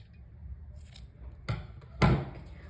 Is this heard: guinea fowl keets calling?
no